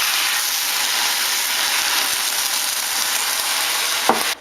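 Sauce hitting a hot pan of chopped garlic for vegetarian lasagna, sizzling in a loud, steady hiss throughout, with a brief clink near the end.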